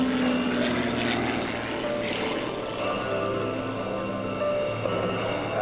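Three propeller aerobatic planes roll through a tight diamond formation at an air force base open house, their engines making a continuous loud drone that swells and eases slightly as they pass.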